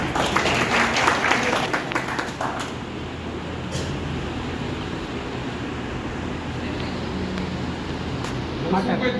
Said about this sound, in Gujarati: આપણે સાહેબનું બધા તાળીઓ પાડીને અભિવાદન કરીએ